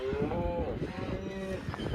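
Cattle lowing as mother cows call repeatedly for their separated calves in a village pasture, several drawn-out moos overlapping close by with steady farmyard background noise.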